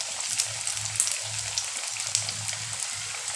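Potato chips frying with cumin in a pan give a steady light sizzle with small crackles and pops throughout, close and moderately loud.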